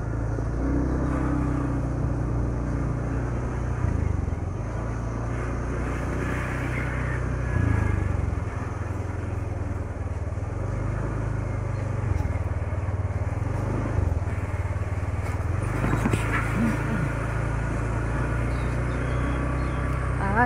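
Motorcycles and other traffic on a road in Bayside, Santa Cruz, Laguna, Philippines give a steady, fairly loud low engine rumble that swells slightly at moments as vehicles pass, with no talking.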